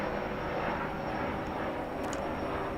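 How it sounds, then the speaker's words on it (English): A news helicopter flies overhead outdoors, a steady, continuous rotor and engine drone that holds at moderate loudness for the whole stretch with no clear approach or fade. "I mean, that's a helicopter."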